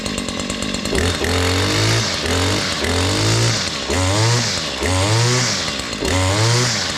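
A Stihl KM94R Kombi two-stroke engine runs close up, revving repeatedly in a steady rhythm of rising and falling throttle bursts over a constant idle, loud and alone.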